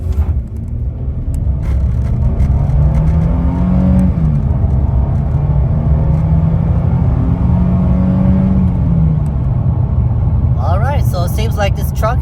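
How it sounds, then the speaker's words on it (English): A pickup truck accelerates hard from a standstill toward 60 mph. The loud engine roar climbs and drops as the automatic transmission upshifts, and a brief voice comes in near the end. "We'll see how well this truck does when it comes to upshifting. We're gonna go from about 0-60."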